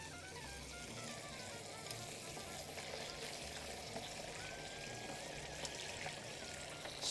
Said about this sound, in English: I'm just gonna run this right now, some cold water in here